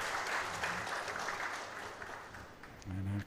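A pool hall crowd at the Maldives Open 2024 final applauds a winning shot, a steady wash of clapping and cheering that holds for several seconds, dips slightly, then swells again with a low voice over it near the end.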